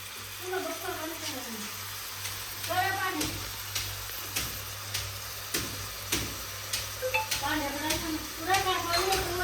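Garlic ginger paste frying in a pan sizzles steadily, with repeated sharp scrapes and taps from stirring, under close talk.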